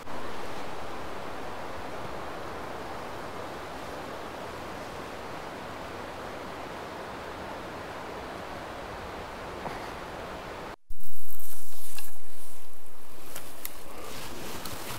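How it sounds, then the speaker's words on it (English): Teapot Creek flowing through old-growth forest, a steady broad rushing wash of water nearby that cuts off abruptly and is followed by louder, closer noise. "I hear the river just over there."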